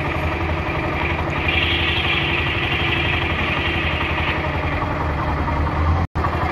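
A 70 cc motorcycle engine idles slowly and steadily close by, its low, even thrumming running continuously for several seconds, cutting out for a brief instant near the end.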